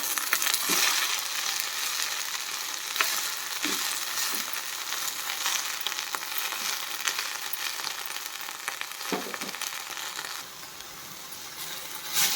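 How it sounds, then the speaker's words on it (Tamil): Coriander leaves frying and being stirred in a pan for a coriander chutney, giving a steady close sizzle with occasional scraping clicks of the spatula throughout. "மல்லி சேர்த்து நல்லா வதக்கி எடுத்துக்கணும்"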